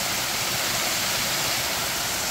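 A waterfall at Lonesome Hollow Falls roars in a loud, unbroken wash of rushing water, heard close and steady throughout with nothing else over it.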